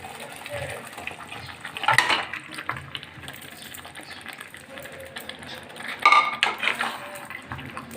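Marinated chicken goes into a pan of frying ginger, garlic and chili paste, bringing clinks of metal utensils against the pan and two louder bursts of clattering over a low sizzling background.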